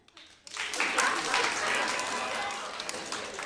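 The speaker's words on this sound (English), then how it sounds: "Round of applause if you like dabbing" A comedy club audience breaks into a round of applause, dense clapping swelling quickly and holding steady for a few seconds with some cheering mixed in.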